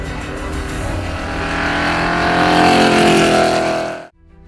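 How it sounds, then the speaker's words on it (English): A Mercedes-AMG One hypercar, the street-legal machine that set the Nürburgring record, roars loudly and continuously, its engine tone rising and swelling for about four seconds before cutting off abruptly, with no voices. "Mercedes-AMG 1, the fastest street legal car on the Nürburgring"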